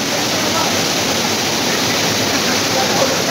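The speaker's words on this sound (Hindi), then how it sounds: "और ये पानी देखें आगे जा रहा है," Stream water flowing over stones at Lahooti Picnic Point near Karachi, a steady broadband rushing wash that stays loud and even throughout with no pauses.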